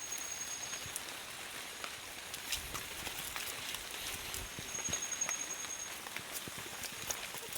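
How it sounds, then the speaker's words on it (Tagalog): Light, steady rain patters on a surface near a tunnel, a soft continuous hiss with scattered drops and occasional sharper ticks, no voices. "Di po siya tantong kusog na ulan."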